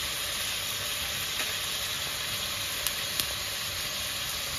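Whole garam masala spices sizzle in hot oil for a chicken curry, making a strong, steady hiss close by. A couple of brief clicks stand out near the end, with no talking.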